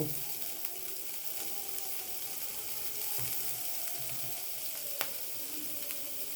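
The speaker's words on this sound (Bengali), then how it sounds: "আলুগুলো বেশ রং ধরেছে এবারে এর মধ্যে আমি একটু পেঁয়াজ কুঁচো দেব" Potatoes and chopped onion sizzle steadily in a frying pan for honey chilli potato, a soft continuous crackle with a few sharper pops and faint stirring, no voices.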